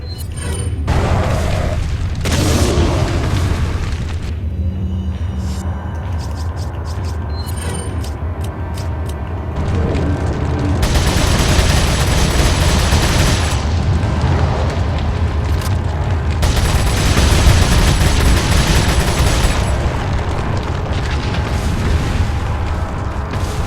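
Grenade blasts in Resident Evil 4 on Professional mode, with loud booming explosions and sustained rumbling that swell and fade in several waves over a continuous game soundscape.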